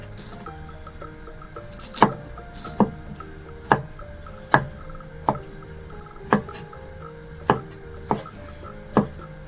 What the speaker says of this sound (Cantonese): 驚唔出味你就切片